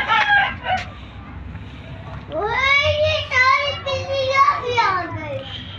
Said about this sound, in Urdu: یہ دیکھیں یہ ہماری مرغیاں